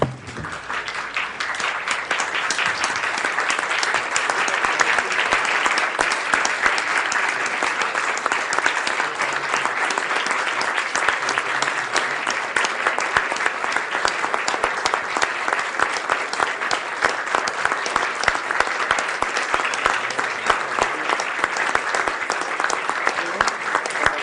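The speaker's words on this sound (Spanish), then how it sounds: "los invito a ponerse de pie y darle un minuto de aplausos a don Antonio Enríquez" A large conference audience at a 2010 national tourism forum in Mexico stands and applauds in honor of Antonio Enríquez, with dense, sustained clapping that holds steady and loud for the whole stretch.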